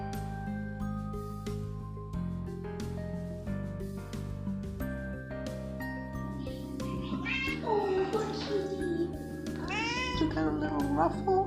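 Cats meow at a humane association shelter, several drawn-out, wavering cries rising near the end over background music and voices.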